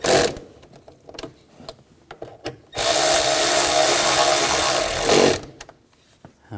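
While a starter is replaced on a 2007-2013 BMW X5 3.0L inline-six, a few sharp clicks and taps give way to a loud, steady whir of a power tool running for a couple of seconds as it tightens the starter bolts, then stopping.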